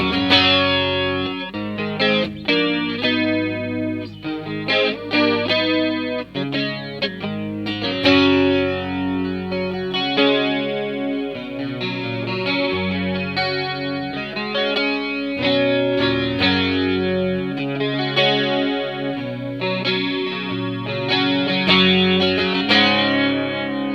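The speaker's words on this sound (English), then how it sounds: "It's not so much of an immediate obvious effect as some flangers are." Electric guitar runs through a Boss BF-2 flanger pedal with the Monte Allums mod, giving a continuous played passage of chords and melodic lines with a gentle sweeping, swirling tone that adds colour without dominating.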